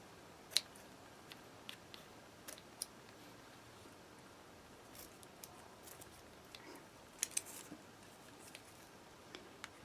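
Quiet, sporadic snips and clicks of scissors cutting, irregularly spaced against a soft background hush.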